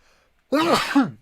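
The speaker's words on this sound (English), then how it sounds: "have another sneeze" A single sneeze, loud and close, bursting out abruptly after a near-silent pause and trailing off with a short breathy tail.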